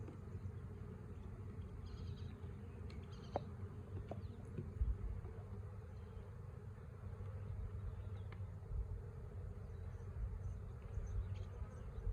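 A captured honeybee swarm buzzes as a steady, dense drone that holds at an even level throughout, with no voices over it.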